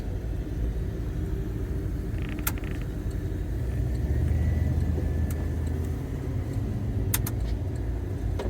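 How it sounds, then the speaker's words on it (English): A 1987 Jeep Grand Wagoneer with around 80,000 original miles on a test drive, heard from inside as a steady low road rumble and engine drone, with a few faint creaks and clicks. "just taking our beautiful 1987 Jeep Grand Wagoneer out here for a quick test drive"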